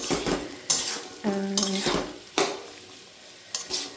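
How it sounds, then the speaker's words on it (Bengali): A utensil stirs capsicum, peas and chopped chili in a pan. Scraping strokes and metal clinks repeat every second or so over a faint sizzle, close and fairly loud, with no talk. "তো সবগুলো দেওয়ার পর আমি এখানে নেড়ে"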